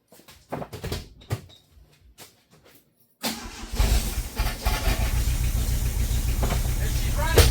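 A carbureted 1984 Dodge Mini RAM engine, parked for 25 years, cranks and catches at once, rising to a loud, steady running rumble after faint sounds and short bursts of talk.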